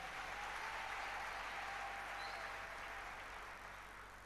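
A church congregation applauding, a dense, steady wash of clapping heard from a distance that holds evenly and fades slightly toward the end, with no voices over it.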